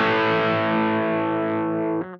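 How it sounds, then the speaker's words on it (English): Fender Duosonic electric guitar played dry into an overdriven Boss Katana amplifier, a single sustained distorted chord ringing loud and alone, slowly decaying before being cut off. "here's the dry guitar sound with some overdrive from the amplifier"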